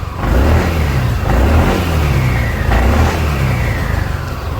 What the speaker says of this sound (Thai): เดี๋ยวลองดูตอนที่ผมบิดคันเร่งนะ